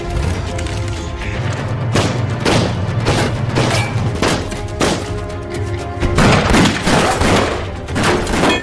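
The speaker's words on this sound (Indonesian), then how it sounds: "hingga terjadi aksi tembak-tembakan" Gunfire rings out in a film shootout between hired soldiers and a police chief, a string of sharp, loud shots and booms spread across the whole stretch over a low background hum.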